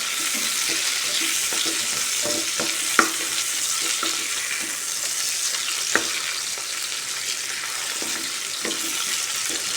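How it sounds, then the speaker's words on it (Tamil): Garlic cloves and chopped tomato frying in oil for chutney give a dense, continuous close sizzle, with faint soft stirring taps throughout and two sharper utensil clicks partway through. "இந்த பூண்டும் தக்காளியும் நல்லா ஆயில்லையே இருக்கட்டும் நல்லா வதங்கட்டும்"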